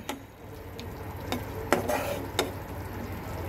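Mustard masala for pabda fish sautés in a pan over low heat, giving a soft continuous sizzle broken by a few sharp scrapes and taps from a stirring utensil, close up and with no talk.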